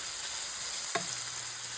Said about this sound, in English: Then I'm going to let these cook and saute a little bit.